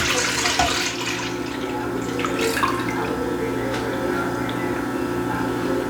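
A cup of whole milk and half a cup of heavy whipping cream pour into a bowl for Southern bread pudding, giving a steady, close, continuous splashing gush throughout.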